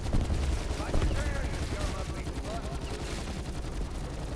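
Gunfire from a Call of Duty: Black Ops 4 zombies boss fight, shots crackling in dense repeated bursts over a busy game mix, with players talking over the action throughout.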